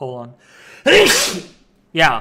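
A single sharp, loud sneeze bursts out between short bits of nearby talk during live tornado outbreak coverage, with a quick breath drawn just before it.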